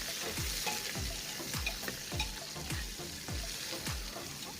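Finely chopped onions fry in a pan for mutton curry, a steady loud sizzle broken by repeated stirring scrapes roughly every half second.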